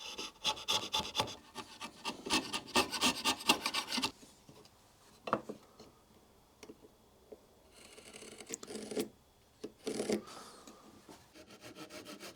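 Chisel paring and cleaning up a wooden half-lap dovetail joint on a photo frame, heard as close, dry scraping and rasping strokes in bursts with short pauses between them, no talking.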